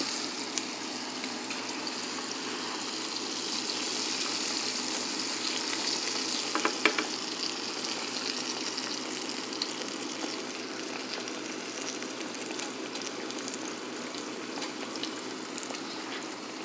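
Hog maw frying in a pan over high heat, a steady close sizzle and crackle that runs unbroken throughout, with a brief clatter partway through and no talking.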